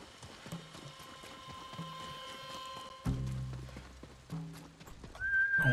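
Horse in the Ghost of Tsushima video game, with soft clip-clop hoofsteps and a neigh or whinny heard against a quiet game ambience, fairly close, with a few heavier thuds later and no talking.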